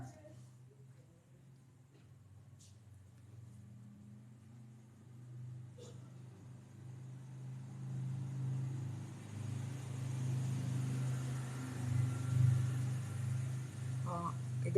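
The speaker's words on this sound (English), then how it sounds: "there's ATVs going by right now" Multiple ATVs passing outside, a low rumbling engine drone that swells gradually louder toward the end, heard faintly from indoors with a voice speaking over it.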